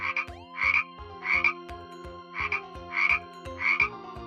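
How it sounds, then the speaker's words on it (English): Repeated frog croaks, about six bursts in a steady rhythm, loud and close, with low rhythmic thumps underneath and no talking. "Frog"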